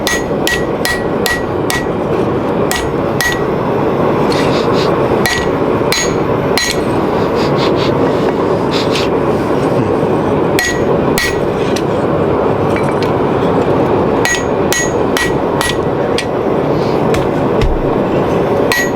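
Hammer blows ring out loud and near on hot steel from a gas forge while a two-piece spring fuller is being made, striking in rapid bursts with short pauses in between.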